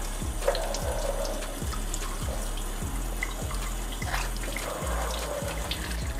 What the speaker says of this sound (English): Make sure that your red cabbage is properly washed.